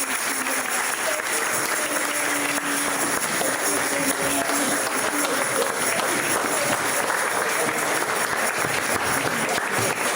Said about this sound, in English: Let's give her a huge round of applause.